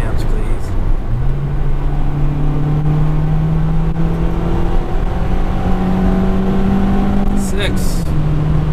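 Acura RSX engine revving hard under acceleration down a straightaway, pitch climbing steadily through a long pull, then dropping at a gear shift near the end; loud interior engine drone with a passenger's voices over it.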